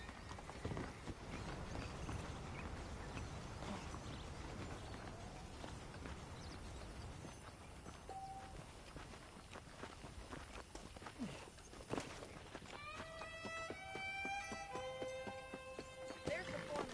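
Horse hooves clip-clop at a steady walking pace in Red Dead Redemption on PS5, mixed with ambient game noise and some talk, with a brief melodic chime near the end.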